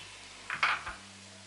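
Carrots and long beans tipped into a pan for Bangladeshi-style fried rice, a brief close clatter of a few quick knocks against metal, then quiet.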